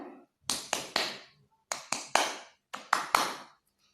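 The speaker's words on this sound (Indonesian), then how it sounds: "itu terdengar seperti konstan, namun setiap ada antara ketukan yang satu dengan yang lainnya itu ada jarak-jaraknya" Crisp, close tapping beats fall in three groups of three, each group separated by a short pause, played alone in a quiet room.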